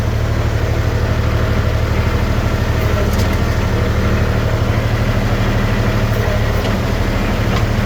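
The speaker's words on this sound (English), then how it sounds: "That's why I like a compact tractor." A small tractor engine runs loud and close at a steady idle, a constant low throbbing chug with a rapid even pulse.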